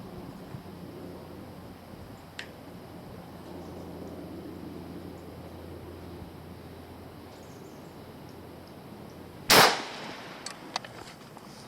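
A single sharp rifle shot from an Enfield hunting rifle firing CamPro 180-grain bullets through open sights, a loud close crack that rings out briefly over a quiet outdoor background, with a faint earlier tick.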